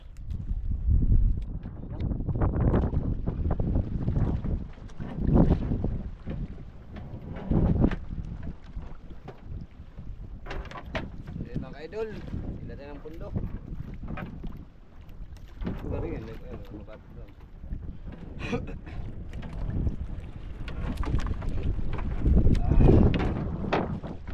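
Strong wind buffets the microphone aboard a small fishing boat at sea, a low, heavy roar that surges and eases throughout with knocks and water sounds mixed in.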